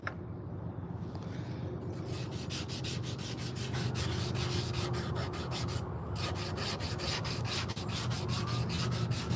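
A hook knife carves the bowl of a wooden spoon from forest wood outdoors, giving steady, close scraping strokes in a quick repeating rhythm that pauses briefly and then resumes.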